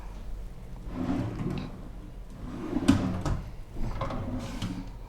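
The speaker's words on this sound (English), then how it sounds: "We have some drawers that we can utilize." Drawers in a Coronado Springs hotel room slide open and shut several times, with soft wooden knocks and rolling scrapes at close range over a low room hum, with no one speaking.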